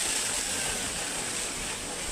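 Water gushing with force from a heavy 5 HP solar pump system in a farm field, a loud, steady, close roar of rushing water with no pauses.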